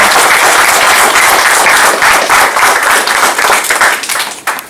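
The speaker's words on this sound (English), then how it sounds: "Let's clap the thanks for them." Audience at a Scrum Bangalore meetup applauds the speakers, a loud, dense wash of clapping that holds steady and starts to thin out near the end.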